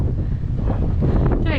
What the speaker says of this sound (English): Bit windy up here.